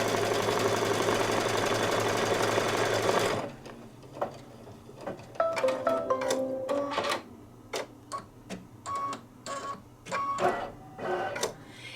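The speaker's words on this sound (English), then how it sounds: "Now I'm just going to stitch it all down again." An embroidery machine hums loudly and continuously while stitching fabric down for a Santa table runner, then falls quiet, followed by a series of short mechanical clicks and whirs as the machine moves and adjusts.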